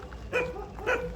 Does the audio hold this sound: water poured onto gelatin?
no